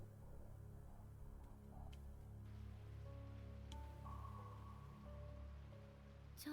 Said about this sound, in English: It was a rainy evening after school,